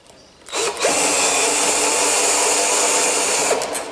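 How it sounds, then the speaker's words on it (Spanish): A cordless drill driver backs out the long screw anchoring a lock cylinder in a box lock, a steady high motor whine starting after a brief pause and running evenly for about three seconds before cutting off. "con un taladro atornillador"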